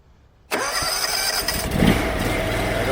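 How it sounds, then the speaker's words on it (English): A pressure washer engine used for gutter and driveway cleaning cranks and fires up abruptly, then settles into a loud, steady running roar close by with no talk. "See how she cranks."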